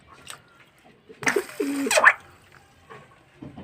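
A pet pigeon coos in a short burst of throaty calls, fairly close and clear, with quiet handling sounds around it in a home setting.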